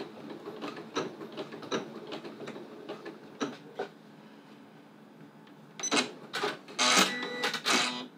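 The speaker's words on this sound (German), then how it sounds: "Ich verriegel jetzt also hier unten die Naht." Domestic sewing machine backstitching to lock a seam at the bottom of a zipper, a series of rapid mechanical ticks and clacks close by, growing louder and busier toward the end.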